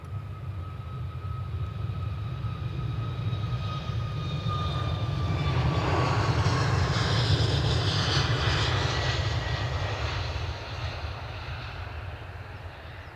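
Jet airliner engines roar at Edinburgh Airport, a loud sustained rumble that swells toward the middle and slowly eases off, with rising engine whine above the steady drone and no talking.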